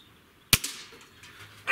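Weihrauch HW97 air rifle fired at a 20-yard target, a single sharp crack followed by a short fading mechanical rattle, then quiet.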